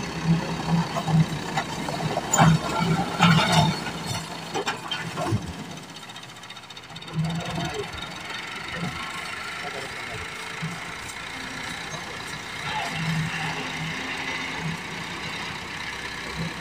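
A tractor engine levelling a plot of land runs with a steady low rumble and idle knock in the background, while people talk loudly over it outdoors.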